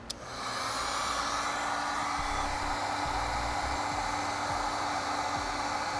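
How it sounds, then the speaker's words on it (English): Heat gun shrinking heat shrink tubing on battery cables, a steady loud airy blowing roar that starts with a click and holds evenly throughout, close and alone. "we'll use a heat gun"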